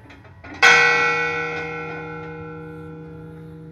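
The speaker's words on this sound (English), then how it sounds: "the fog bell ringing out across the famously foggy San Francisco Bay" A single fog bell on San Francisco Bay is struck once after a brief soft knock, its loud metallic clang ringing out and decaying slowly with sustained overtones, close and clear.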